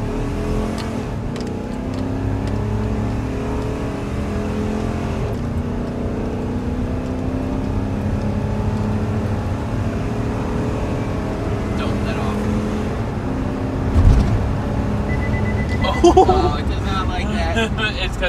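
A Chevy Express rental van with a 6.0 LS engine roars at full throttle, rising steadily in pitch as it accelerates from a stop, loud and close, with brief voices near the end.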